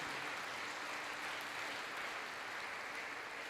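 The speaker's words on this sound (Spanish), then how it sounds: "Démosle ese aplauso al Padre Celestial." Congregation applause at a Spanish-language church service, a steady dense wash of clapping held at an even level for the whole stretch, sounding somewhat distant and with no voices standing out.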